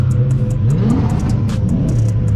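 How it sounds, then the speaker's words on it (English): Cars rev at a nearby car meet, loud rumbling engines rising and falling in pitch over a constant low drone, with several vehicles overlapping. "You can hear all the cars in the background."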